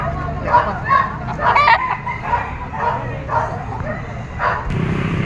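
Gamecock stag crowing at a poultry market, several crows rising above a busy background of other fowl clucking, a dog barking, and people talking nearby.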